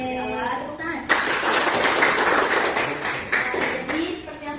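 Applause from a small group, likely a class, breaks out suddenly and carries on steadily for several seconds at moderate loudness. It comes up close and sounds like many hands clapping at once, with a voice heard just before it starts.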